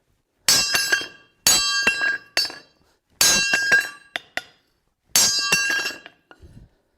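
A hammer striking a railroad track anvil, four loud ringing metallic blows at uneven intervals, each with a bright lingering ring and a few lighter taps between, close and with no talk.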